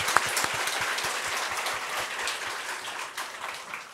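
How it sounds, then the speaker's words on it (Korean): A church congregation claps during a Sunday service, brisk rhythmic applause with distinct beats repeating evenly for several seconds at moderate volume. "우리 하나님께 영광의 박수 하십시오"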